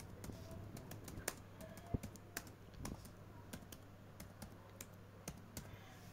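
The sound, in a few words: typing on a computer keyboard in Excel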